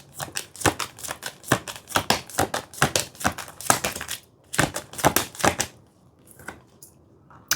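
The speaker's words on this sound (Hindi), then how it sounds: "चलो दोनों कार्ड्स निकाल लेती हूँ मैं आपके लिए, दोनों लव के लिए" Tarot cards shuffled briskly by hand, a fast run of crisp riffling snaps and slaps close up, then a few slower taps as cards are drawn, with no talk.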